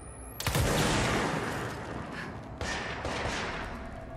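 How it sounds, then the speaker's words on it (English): Game gunfire from a character levitating in midair in Control: a loud opening shot, then sustained bursts of weapon fire with a heavy, washing tail, fairly close and with no talking. "Y'all want me to shoot while I'm levitating?"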